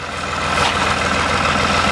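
A tractor engine runs steadily in a corn field, a loud, constant low throb with a regular pulsing rhythm and no talk over it.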